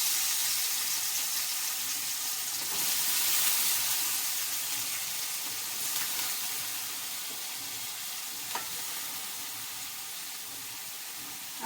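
Onion sizzling in a pan while Maggi noodles are being made, a steady, fairly loud broadband hiss that holds through the whole stretch with only small swells and one brief tick.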